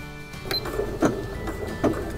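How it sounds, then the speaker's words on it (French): A sewing machine stitches a cord in place on a triangle scarf, giving short mechanical bursts and rhythmic clicks close by, with a steady motor hum underneath. "je puisse coudre à la machine juste à cet endroit-là"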